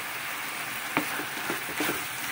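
Bamboo shoots sautéing with chili in a pan sizzle steadily, with a few soft stirring clinks and scrapes over the continuous frying hiss.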